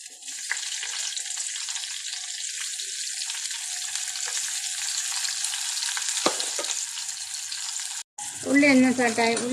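Onions with cinnamon, cloves and cardamom sizzle in hot coconut oil for a chicken stew, a continuous close frying hiss with stirring. A voice hums or speaks briefly near the end.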